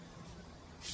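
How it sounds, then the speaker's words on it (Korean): A spray bottle gives one short, sharp hiss near the end while spraying fungicide onto orchids, after a quiet stretch. "밸브에다가 스프레이를 입에다 하고 밸브에다 이렇게 쏜다 이거예요."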